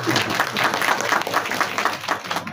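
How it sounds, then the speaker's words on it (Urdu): Audience at a political rally in Pakistan breaking into applause, dense clapping from a crowd heard close and steady for a couple of seconds. "تالیاں بجائیں"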